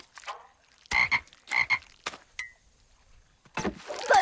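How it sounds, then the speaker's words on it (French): Cartoon frogs croak in a series of loud, bright ribbed bursts spaced through a kitchen scene, with short gaps and a small squeak between them. "Bonne chance, les grenouilles."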